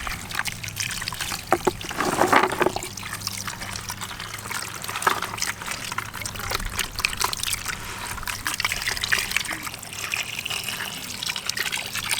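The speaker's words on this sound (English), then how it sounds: "I'm just gonna keep doing this and rinsing until the water becomes clear" Water trickles and pours steadily while palm seeds are rinsed by hand, with small splashes and faint rubbing sounds, close and fairly quiet throughout.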